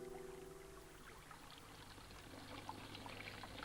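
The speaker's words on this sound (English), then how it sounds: "Isn't that sound of moving water peaceful and relaxing?" Water flows steadily in a small garden stream, a soft continuous trickling and splashing that stays faint and even throughout.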